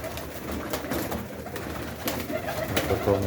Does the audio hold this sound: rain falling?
no